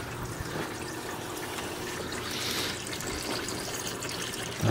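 A pond pump fills a tank with water, giving a steady, moderately loud rush and trickle of flowing water throughout, with a brief louder thump at the end.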